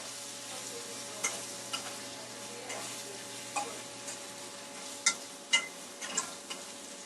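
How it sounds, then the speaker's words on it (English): Small onions sautéing in a pan for dak bulgogi, a quiet steady sizzle broken by a handful of spatula taps and scrapes as they are stirred, no talk. "Now to get this cooking up some more, or get this stirred up."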